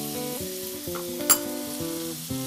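Garlic and onions sauté in butter for salmon, giving a steady close sizzle under a sustained tonal hum, with one sharp scrape or clink near the middle.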